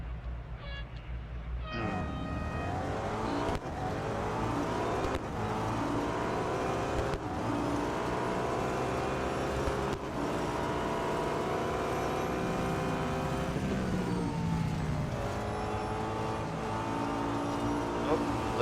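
Audi A5 DTM race cars in the Real Racing 3 video game roar around the Sebring circuit, a loud sustained engine drone with rising and falling gear-shift sweeps, with someone talking over it.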